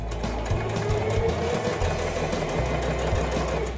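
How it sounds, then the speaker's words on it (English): A Singer sewing machine stitches straight through fabric with a steady, fast mechanical whir and rapid needle chatter, close and continuous throughout. "I'm just gonna sew straight again."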